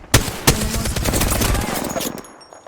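Gunfire in the shooter game Apex Legends, two loud shots followed by a dense rattling automatic burst that fades out, loud and close.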